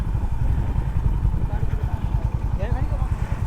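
A Honda CB350RS motorcycle engine starts and idles close by with a rapid, rhythmic low chugging. Faint voices sound underneath.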